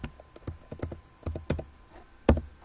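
Keys clatter in irregular bursts on a computer keyboard, ending in one harder, louder keystroke. Close up, with no speech.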